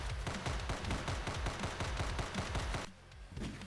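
Rapid bursts of enemy gunfire from a shooter video game, dense overlapping shots rattling loudly and continuously before briefly dropping off near the end.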